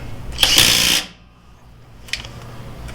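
Makita 18V XWT14 cordless impact wrench tightening a fastener: a single loud, rapid rattling hammer burst lasting about half a second, then quiet with a couple of faint clicks.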